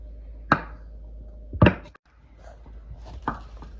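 A knife cuts Spam into half-inch cubes on a cutting board, giving three separate sharp chops spaced about a second apart, close and clear, with a low steady hum underneath.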